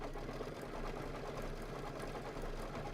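A sewing machine hums steadily while running a decorative stitch on a Kimberbell table topper, a faint, even mechanical whir with light rhythmic ticking and no talking.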